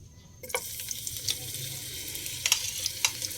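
Bitter gourd frying in a pan, giving a steady broad sizzle with a few sharper crackles and spatters scattered through it. No voices are heard.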